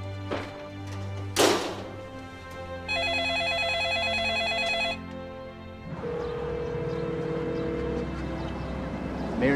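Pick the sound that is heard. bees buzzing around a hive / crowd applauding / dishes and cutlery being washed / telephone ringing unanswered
telephone ringing unanswered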